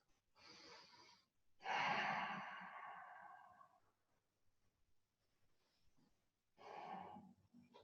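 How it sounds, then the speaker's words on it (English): Slow, deep breathing during a relaxed yoga pose: a few long, close inhales and exhales separated by quiet pauses, soft and airy, with no one speaking. "Just keep breathing,"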